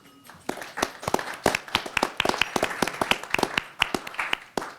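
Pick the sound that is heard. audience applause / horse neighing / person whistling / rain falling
audience applause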